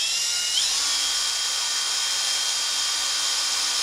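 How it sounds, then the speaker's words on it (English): A steady, high-pitched electric drill whine, loud and close, runs continuously without pause as the drill winds wire. "you start winding it on a drill."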